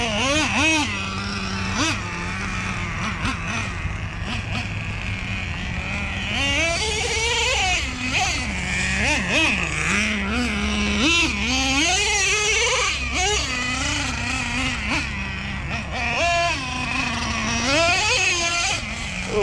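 A Nitro Revo 3.3 RC truck's small nitro engine screams and buzzes nearby in rising and falling revs at an offroad expo, with steady background noise throughout.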